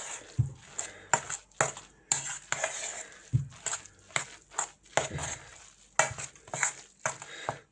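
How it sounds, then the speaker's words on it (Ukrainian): A fish cutlet mixture made from canned sardines is stirred in a bowl, giving a steady run of close, rhythmic scraping and clinking strokes of a utensil against the dish, with short pauses between the strokes. "тепер ми це все перемішуємо в однорідну масу"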